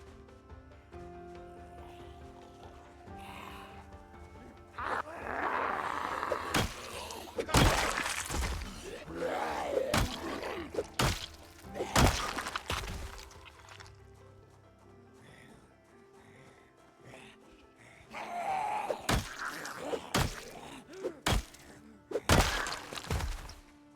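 Door banging in the Project Zomboid video game: a series of sharp, loud thuds and knocks in irregular bursts, some close together, over a low ambient background.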